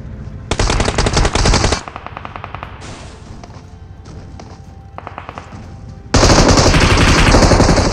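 An M249 machine gun fires at a BRDM armoured vehicle in PUBG Mobile, with several loud sustained automatic bursts, some nearer and some farther, over steady game background noise and a final long close burst.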